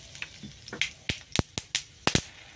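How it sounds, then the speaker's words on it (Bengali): Whole spices crackle and pop in hot oil in a home kitchen pan while cooking chicken with green tomatoes, sharp irregular snaps scattered over a low sizzle, close and loud, with several bursting in quick succession. "ওদিকে তেল কিন্তু গরম হয়ে গেছে দেখেছ তেল গরম হয়ে গেছে গোটা মশলাটা দিয়ে দিলাম"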